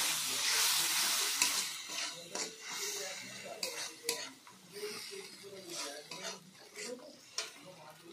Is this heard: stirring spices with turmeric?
yes